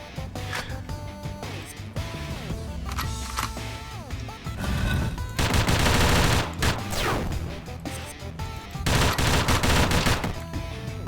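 A gun firing in the pixel-art dungeon game Dungreed, bursts of loud, rapid shots over electronic game music and sound effects, with two especially dense, noisy volleys in the second half.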